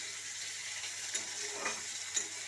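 New potatoes frying in a pan for a fish and garlic curry, giving a steady, fairly quiet sizzle with a few soft stirring clicks and no talking.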